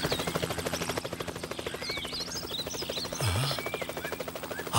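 A helicopter's steady, rapid rotor chop continues throughout at moderate distance, with a few bird chirps above it.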